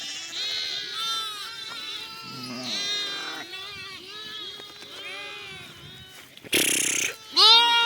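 A newborn orphaned lamb whose mother died bleats repeatedly up close, its thin wavering cries coming one after another with a louder burst of noise near the end.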